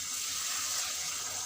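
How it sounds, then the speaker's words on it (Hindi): Water sprinkled over pakora masala cooking in a pan, heard as a steady, fairly faint hiss and spatter that holds evenly throughout with no talking. "अब हम थोड़ा सा पानी का छींटा लगा देंगे ताकि वो थोड़ा सा मसाला जो है"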